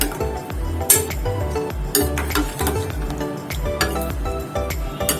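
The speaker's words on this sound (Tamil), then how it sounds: "இப்போ இது மாதிரி நல்லா கிளறி விட்டுக்கோங்க" A pot of pidi karunai kizhangu kara kulambu, a spicy yam curry, being stirred, with repeated clinks and scrapes of a utensil against the pot alongside background music, no voices.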